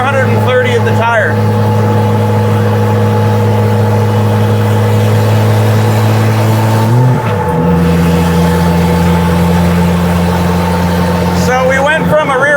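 Turbocharged 2JZ-swapped 1968 Dodge Charger running on the road, a loud steady engine drone with a strong low hum and a brief dip in pitch partway through, as if shifting, then settling at a lower tone.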